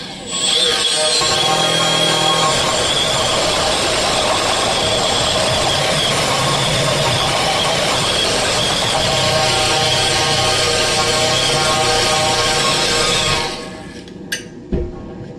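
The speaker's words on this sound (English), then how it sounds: "The next thing we need to do is we have to start buffing." A tool buffing the inner surface of a car tire before patching runs continuously and loudly for about thirteen seconds. It has a steady whirring, grinding tone, then cuts off, leaving a few faint knocks.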